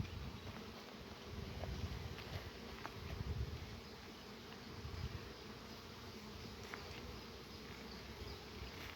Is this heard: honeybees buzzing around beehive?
yes